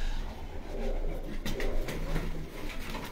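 Flying pigeons on a rooftop cooing softly amid a busy outdoor background with wing flutters and scattered noise, moderately near, no clear talk.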